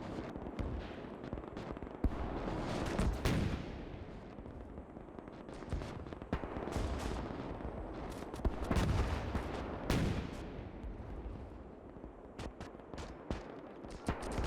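Rocket artillery bombardment and gunfire in the Gates of Hell war game crash as repeated heavy blasts and bursts of shots over a constant battle rumble, some impacts near and loud, others more distant.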